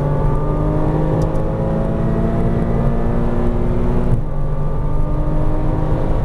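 A Porsche Cayman R on a race track drones under steady throttle from inside the cabin, its engine note climbing slowly, then dropping sharply as the driver lifts off and settles into a lower hum.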